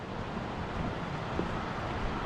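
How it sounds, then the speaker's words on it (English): Steady broadband rush of water near Moose Jaw Falls, heard from a rocky, steep hiking path, a continuous even roar with no voices over it. "You can hear the water sounds better up this way."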